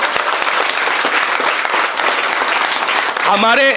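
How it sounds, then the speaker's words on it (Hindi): A class at a mobile repairing course claps loudly and continuously, a dense crackle of many hands. A voice begins speaking over it near the end. "तो एक बार जोरदार ताली भाई आप लोगों के लिए"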